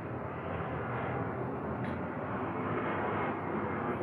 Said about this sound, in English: It's the same plane, by the way, I checked.